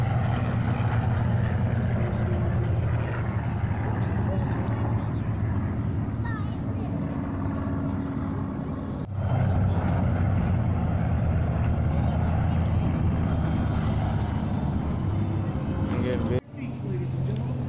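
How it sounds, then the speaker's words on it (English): A B-25 Mitchell propeller bomber passes at the Nellis airshow in Las Vegas, a loud, steady piston-engine drone that fills the clip, with crowd voices talking over it and a brief dip near the end. "Ladies and gentlemen, the B-25 Mitchell."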